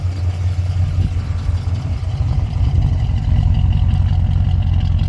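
A 1967 Pontiac LeMans convertible engine idles steadily with a low, rumbling throb, close and constant throughout, with no talking.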